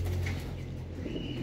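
A pigeon coos softly once amid the steady murmur of a racing-pigeon loft, with a faint flutter of wings under constant background hum.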